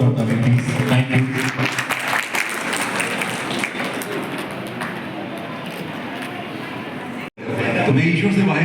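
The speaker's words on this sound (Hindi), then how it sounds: "जोरदार तालियां प्लीज, थैंक यू।" Loud, dense applause from a school audience at a singing-star event at SG Public Senior Secondary School, Vasundhara, running steadily for about seven seconds, breaking off briefly, then surging again.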